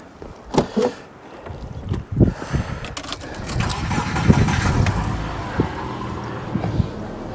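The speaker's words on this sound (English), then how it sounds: "let me start the car" A Subaru Forester engine with a dual battery setup cranks and turns over, then settles into a steady running rumble, close by, with a few clicks and small handling noises early on.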